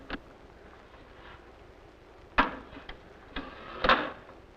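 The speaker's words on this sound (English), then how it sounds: "Would you stop showing a woman putting away blocks?" Wooden toy blocks clack as they are put away in a classroom, a few scattered knocks and clatters, the loudest cluster near the end, with quiet room tone between.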